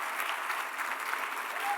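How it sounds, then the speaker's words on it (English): Steady audience applause fills the room at an awards brunch, a dense, even wash of clapping from a standing crowd that holds at moderate loudness throughout without letting up. "please stand, give them a round of applause"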